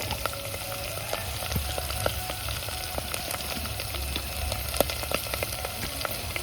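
Crushed garlic and turmeric fry steadily in a pan, a continuous close crackling sizzle with scattered sharp pops and occasional faint stirring clicks, no voices.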